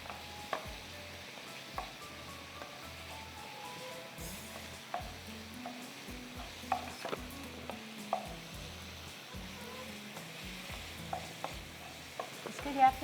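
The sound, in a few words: chicken frying in oil, being stirred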